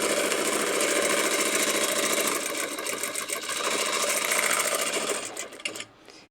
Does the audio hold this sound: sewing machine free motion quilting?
yes